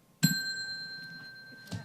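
A public meeting's timer bell rings once with a bright, sustained metallic ding, near and clear, followed by faint room noise and a soft second knock near the end.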